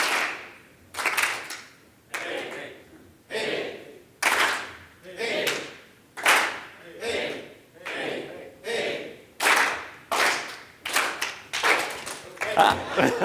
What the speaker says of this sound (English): when I point with my right hand, you're supposed to clap